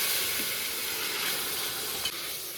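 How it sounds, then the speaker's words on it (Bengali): Kochur loti (taro stolon) curry hitting garlic fried deep red in hot oil, giving a loud, continuous close-up sizzle that holds steady throughout with a faint stirring scrape. "এবার এই কচুরলতির তরকারিটা ঢেলে দেবো"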